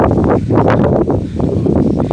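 Strong wind blows outdoors near a stream crossing, buffeting the microphone with a loud, continuous low rumble that swells and eases.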